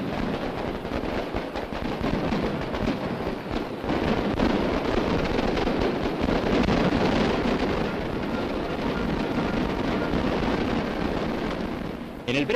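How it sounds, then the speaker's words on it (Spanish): Tracas, firecrackers and rockets explode at the 1959 Fallas festival in a dense, continuous roar of crackling bangs, heard in an old, muffled recording. "con el fulgor y el estallido pirotécnico de tracas y cohetes"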